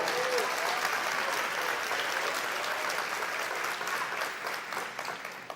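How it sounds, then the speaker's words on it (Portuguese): Broad, sustained applause from a church congregation, a thick wash of many hands clapping that stays loud and even before easing off slightly near the end. "Aplauda o nome dEle."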